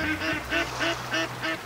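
A duck quacks six times in a steady rhythm within a hunting video game, Way of the Hunter, sounding moderately close over a low ambient hum.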